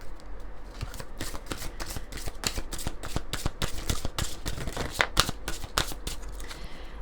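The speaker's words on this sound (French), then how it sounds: "on va prendre une carte de la libération énergétique" A deck of energy-release oracle cards is shuffled close up, with rapid riffling bursts repeating in a quick, uneven rhythm throughout and no voices.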